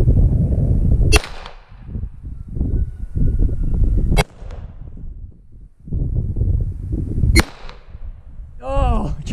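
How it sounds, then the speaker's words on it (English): A 9mm pistol loaded with toy gun caps fires at an outdoor shooting range: three sharp, loud cracks spaced a few seconds apart, with people talking between the shots. "toy gun caps, it's actually working"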